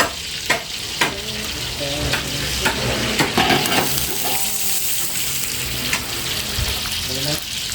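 Dinuguan stirred in a hot pan, giving a steady close sizzle of frying broken by repeated scraping and clinking strokes of a utensil, with faint voices in the background.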